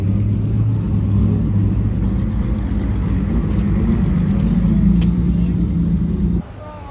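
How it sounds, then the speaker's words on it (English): Cars driving past at a busy outdoor shopping event, a loud continuous engine and tyre rumble close by that drops off sharply near the end, with no voices. "show you all of the wonderful cars going past at the moment"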